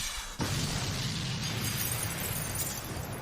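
An explosion in an anime episode bursts in abruptly after a brief quiet moment, then holds as a loud, dense, sustained roar of blast and debris that fills the rest of the clip.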